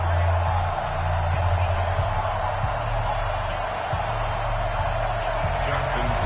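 Crowd noise fills an NFL stadium before kickoff between the Cleveland Browns and Baltimore Ravens at M&T Bank Stadium, a steady loud roar running throughout with low rumbling swells.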